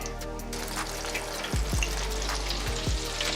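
Chicken strips for crispy tenders frying in hot oil, a steady close sizzle with a low hum and a couple of soft thumps as pieces go in.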